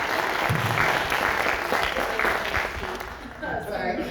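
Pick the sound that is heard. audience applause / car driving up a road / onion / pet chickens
audience applause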